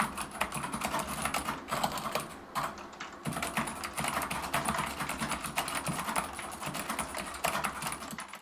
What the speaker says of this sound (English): I got the blue switches, which are very, very nicely clicky.